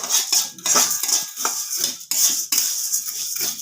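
Puffed rice stirred in a pan with a metal spatula: a dense, rattling, scraping clatter of grains against the metal pan, in quick repeated strokes with brief pauses. Loud and close, with no speech.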